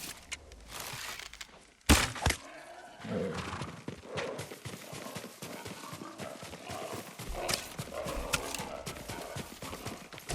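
Hooves clip-clop steadily across a Ghost of Tsushima landscape, a continuous galloping rhythm layered with dense game ambience and a sharp thud early on.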